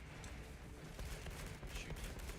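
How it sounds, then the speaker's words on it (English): Dense gunfire from the Space Marine 2 video game, a steady wash of rapid shots and impacts that runs without pause through the short stretch at fairly loud level. "Oh my lord, that's a lot of bloody bullets."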